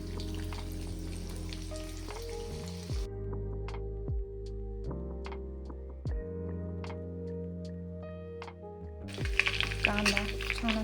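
Onion and peanuts fry in a pan, with a steady, close sizzle that is loudest at the start and end, while tonal background music fills the middle.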